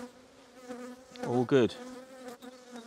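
Honeybees hum around an opened beehive in cold weather, a close buzzing drone that flares briefly louder as a bee passes the microphone, with a short spoken remark.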